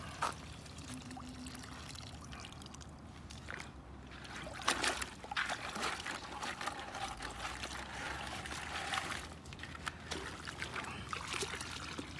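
Water splashes and trickles as a sandy arm is rinsed on a beach after clam digging, with soft intermittent pouring and sloshing at a low, close level.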